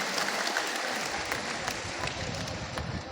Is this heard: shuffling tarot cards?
no